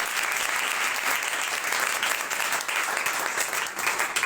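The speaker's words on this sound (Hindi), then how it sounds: "और जोरदार तालियां" A congregation at a worship gathering gives loud, dense applause that continues steadily without a break and without speech over it.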